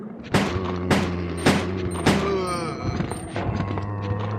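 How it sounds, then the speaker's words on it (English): Browning Hi-Power pistol fired in Resident Evil 2: four sharp, loud shots in quick even succession, then a mechanical reload clack and another bang over a low game hum. "Ada's actually got the same gun as Claire, the Browning high power."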